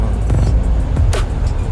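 Steady low engine rumble and road noise from inside a moving 15-seat air-conditioned passenger bus, with a brief higher whoosh midway and no talking.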